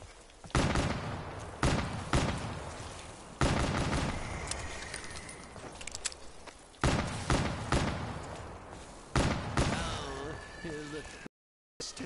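Video game gunfire comes in loud, sharp bursts of rapid shots separated by brief pauses, close and punchy, with a brief stretch of electronic tones and clicks in between.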